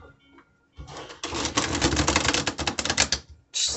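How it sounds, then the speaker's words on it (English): A deck of tarot cards being shuffled by hand, with a quick run of dense riffling clicks lasting about two seconds before a short pause and a brief further burst. "Let me shuffle these real quick"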